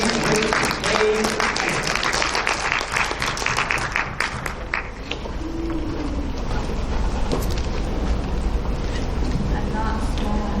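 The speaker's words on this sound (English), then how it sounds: "let's give Miss Yazi another round of applause" An audience at a Native American college poetry slam claps for a poet, a dense burst of applause that thins after a few seconds into a lingering wash of crowd noise and a low hum.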